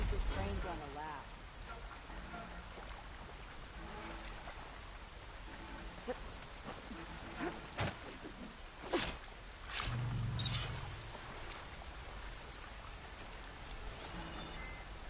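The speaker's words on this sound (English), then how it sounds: "How long is this rain gonna last?" Rain falls in the video game Horizon Forbidden West as a continuous hiss of drops, broken by a few short sharp effects and soft squishy steps.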